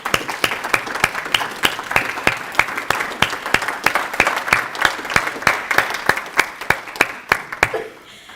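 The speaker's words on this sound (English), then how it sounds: "So I'd like you to give them a round of applause." Reunion audience at a golden homecoming gathering applauds the committee, a close, rhythmic run of hand claps over a fuller crowd clapping that fades out near the end.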